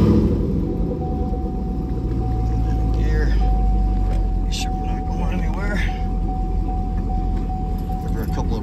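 A 688whp 2015 Chevrolet Camaro ZL1 with a six-speed manual starts up and settles into a deep, rumbling idle close by, with someone talking over the engine.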